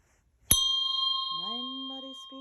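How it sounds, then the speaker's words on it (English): A single mindfulness bell is struck once and rings out with a long, clear sustained tone, and a voice begins chanting softly beneath the fading resonance. "I send my heart along with the sound of the bell"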